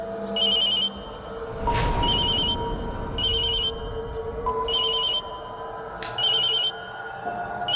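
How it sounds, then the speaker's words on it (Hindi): A phone rings in repeated short electronic trilling bursts, evenly spaced, with a couple of sharp clicks between rings. "राजकुमारी जी का फोन, वो भी इस वक्त?"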